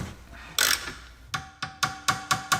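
A ratchet wrench works a 13 hex bolt on a Jaguar S-Type brake caliper: one rustling handle movement, then a quick series of about six close, crisp ratchet clicks at a fairly even pace.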